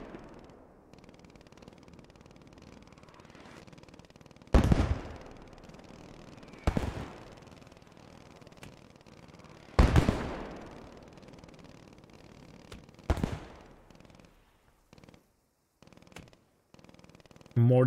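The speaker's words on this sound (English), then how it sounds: "Mortars coming down from Bango." Mortar rounds land in a WWII video game battle near a crossroads: four loud, sharp blasts with long decaying tails, spaced a few seconds apart, over a steady low rumble of ambient battle noise.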